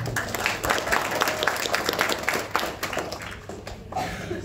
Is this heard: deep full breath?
no